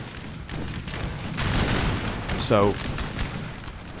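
Musket volleys crackle in a Napoleonic: Total War III multiplayer battle, with ragged bursts of gunfire swelling midway and artillery booming, while a player talks over the fighting.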